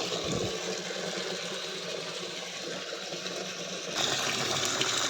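Water running into a bucket outdoors: a steady hissing, gushing flow that holds level, then grows brighter and louder near the end, close by with no talking.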